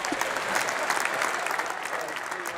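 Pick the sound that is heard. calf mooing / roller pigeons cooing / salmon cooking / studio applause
studio applause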